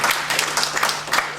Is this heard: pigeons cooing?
no